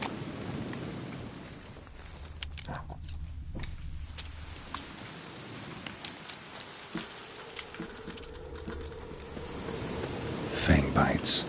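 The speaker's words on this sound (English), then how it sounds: "Looks like rain." Steady rain with low rumbles of thunder fills a Witcher 3 game scene, a continuous wash of patter with occasional sharper crackles, swelling slightly louder near the end.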